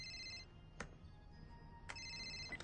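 A mobile phone ringtone rings in a Christmas movie scene, a thin repeating electronic chime in two bursts separated by a brief gap, fairly faint against a quiet room background.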